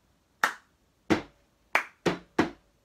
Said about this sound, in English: And you clap again.